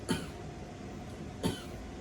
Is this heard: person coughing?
yes